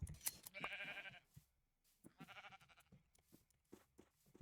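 In the Minecraft video game, a sheep gives two wavering bleats separated by a short pause, clear and close over quiet game sounds.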